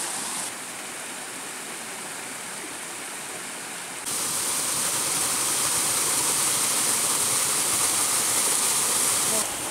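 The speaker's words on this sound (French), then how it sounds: "Alors là, Jus vient de m'emmener au pied de sa cascade." A woodland waterfall roars steadily from close by, a dense, unbroken rush of water that grows noticeably louder partway through, with no voices.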